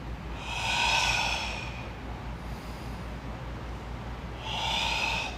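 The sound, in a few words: breathing in and out during exercise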